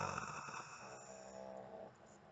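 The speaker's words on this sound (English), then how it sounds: "Listen to pug snores" A pug snoring close by, a soft rasping, purring breath that swells and fades once over a couple of seconds in a quiet room.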